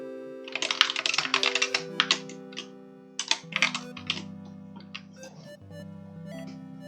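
Rapid clicking keystrokes on a computer keyboard while writing code, coming in quick bursts with short pauses, close and clear over a steady, soft musical background.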